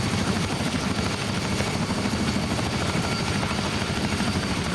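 Helicopter in a military combat game, a constant loud rotor drone with a dense rhythmic chop and a heavy low rumble, close and unbroken, with no talk over it.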